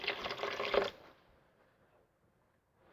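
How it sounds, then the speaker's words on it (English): A little water is poured into a high-powered blender jar for a hummus-based sauce, a short splashing trickle lasting under a second, close and quiet, followed by near silence. "I'm going to throw in a little bit of water in there."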